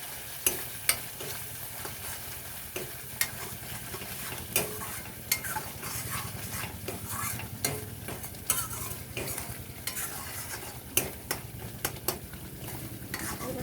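Spices with chili powder and cumin powder are sautéed in oil for an egg and peanut curry, a constant soft sizzle broken by frequent sharp scrapes and taps of a spatula against the pan.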